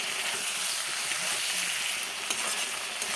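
Chili chicken frying in a pan with chili powder, salt, tomato sauce and chili sauce, giving a loud, continuous sizzle with occasional stirring scrapes, close and steady throughout, with no voice.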